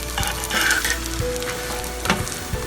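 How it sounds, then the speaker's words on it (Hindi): Mutabbaq fries in a tablespoon of oil on a griddle, a loud close continuous sizzle and crackle with a few soft taps and scrapes from handling, no talk. "तवे पे 1 टेबलस्पून तेल डालें और आराम से उठा के तवे पे पकने के लिए रख दें"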